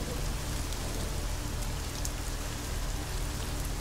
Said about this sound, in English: Please get us out of the rain.